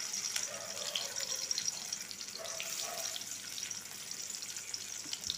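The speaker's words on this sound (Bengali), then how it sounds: "এরপরে আরও যেগুলো আছে সবগুলোই আমি একে একে ভেজে নেব।" Stuffed bitter gourds frying in hot oil give a steady, close, watery sizzle with faint crackles throughout, and no voices.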